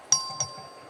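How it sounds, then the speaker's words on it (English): Voting bell in the Texas House chamber rings during a record vote, two quick bright electronic dings in a row, fairly faint against the chamber's room tone. "Clerk, ring the bell."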